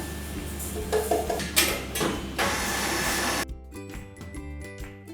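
Flour, baking soda and sugar are mixed in a bowl for a rose cake, producing close clattering and scraping bursts, followed by rhythmic mechanical tapping.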